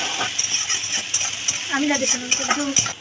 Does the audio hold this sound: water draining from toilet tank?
no